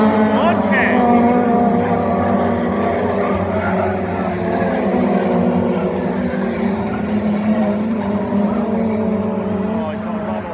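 Honda race cars lapping Brands Hatch in a race, a steady loud drone of several engines blended together, with a voice talking over it throughout.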